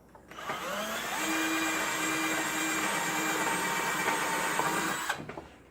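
Power drill boring a hole into the corner of a wooden spice rack, a sustained whining motor with grinding bit noise for about five seconds, close and steady, starting and stopping abruptly.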